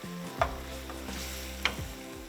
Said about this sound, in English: Now we will reduce the heat and start stirring in some butter.